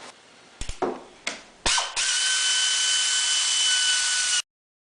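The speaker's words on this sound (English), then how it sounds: "Just got a bunch of, looks like 8mm head bolts in here to take loose now." Power tool loosening 8mm head bolts on a Suzuki ATV clutch housing: a few short ratcheting bursts, then a sustained loud whir for a couple of seconds before stopping abruptly, close up with no talk.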